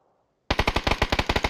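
Automatic gunfire rips out in the video game PUBG, a sudden rapid burst of about a dozen evenly spaced shots from nearby, loud after a moment of silence.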